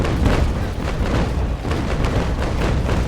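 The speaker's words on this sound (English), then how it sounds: "I'm just going to fire." A ship's cannon broadside in Naval Action, fired from a sixth-rate against a fifth-rate: dense, rolling booms of gunfire that overlap into a continuous heavy roar for a few seconds.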